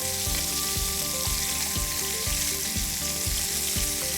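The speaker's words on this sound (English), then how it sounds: "I'll just add some oil into the pan, and then I'll put my lamb rack skin side down for a good sear." A lamb rack sears skin side down in an oiled pan over a gas flame, giving a steady close sizzle and frying hiss with a regular low thumping pulse underneath, no voices.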